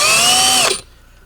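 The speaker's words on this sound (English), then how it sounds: "I'm going to put a pilot hole in there" A power drill runs steadily at high speed, boring a pilot hole for an L bracket into a van's middle bulkhead, then cuts off abruptly as the bit stops, leaving quiet.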